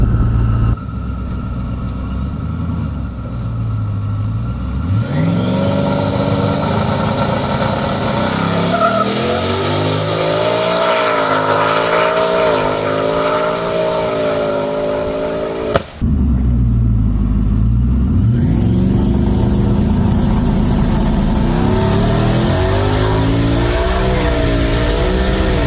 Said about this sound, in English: now Bobby's gonna get behind the truck, and we're gonna do a full launch and see what it does.